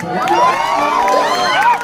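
A crowd at a Holi stage show erupts in loud cheering and shouting, with children's voices mixed into a brief, dense burst of noise.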